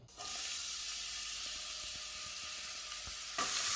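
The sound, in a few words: onions frying in hot oil in a pot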